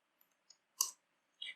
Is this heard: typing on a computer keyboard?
yes